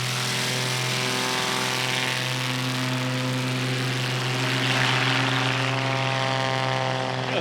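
Airplane engine at a STOL competition, a loud steady propeller drone with a strong low hum and harmonics, holding near and constant throughout with a slight swell toward the end.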